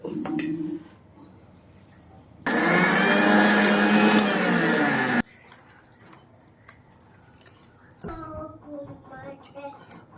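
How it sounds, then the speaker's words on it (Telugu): A kitchen mixer grinder whirs loudly for about three seconds while grinding onions and green chillies, a harsh motor roar that starts and stops abruptly, with quieter kitchen noises and talking before and after. "కోడిగుడ్డు కూర ముందుగా మిక్సీలో వేసుకున్నాం"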